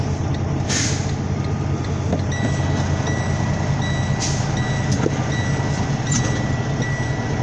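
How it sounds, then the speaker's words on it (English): A semi truck's air brakes are set while parked in a Chicago-area stop, giving sharp hissing bursts over a steady diesel idle rumble, with faint beeping tones in the background. "Set the brakes."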